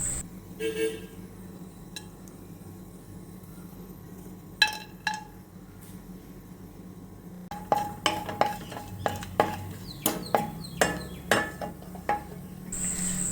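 Oil, cardamom, cloves and cinnamon heat in a pan for paneer curry, with a low constant hiss under a series of sharp metallic clinks and taps from a utensil against the pan, growing more frequent toward the end.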